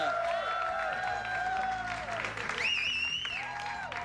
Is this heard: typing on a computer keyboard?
no